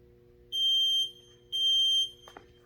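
Two identical high electronic timer beeps in a children's CrossFit class, each lasting about half a second with a brief pause between, followed by a faint click.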